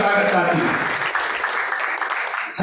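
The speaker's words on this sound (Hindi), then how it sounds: "आप ताली से स्वागत करते हैं।" Packed BSP party meeting audience breaking into sustained applause for a newly arrived guest: thick, loud clapping that eases slightly and keeps going, with amplified speech heard faintly over it.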